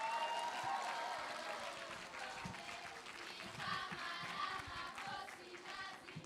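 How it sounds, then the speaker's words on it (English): Audience clapping at a conference session, a moderately loud, sustained spread of many hands that holds steady, with faint background voices in the hall. "A big clap as they come."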